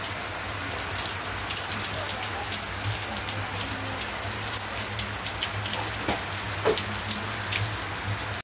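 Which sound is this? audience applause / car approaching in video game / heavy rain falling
heavy rain falling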